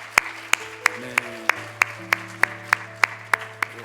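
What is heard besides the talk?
congregation applauding in church service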